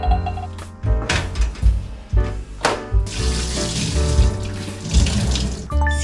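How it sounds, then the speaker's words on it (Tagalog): A water tap runs steadily into a sink while hands are washed under hot water, with splashing and clattering bursts over the continuous flow, close and fairly loud, no talking. "Naka-gloves kami dito pag naghuhugas ng kamay kasi hot water yung ginagamit namin."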